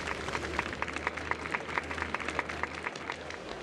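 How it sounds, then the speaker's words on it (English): A festival crowd in Honkai Star Rail breaks into dense, continuous applause, many hands clapping at once at moderate loudness for several seconds. "we invite you to express your warmest applause and deepest appreciation for OT Alpha"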